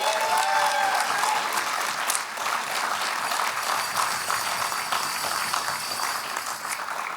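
Sustained applause from an audience at an award ceremony honouring a medical organisation, a dense, steady wash of clapping that stays loud throughout and eases only slightly toward the end.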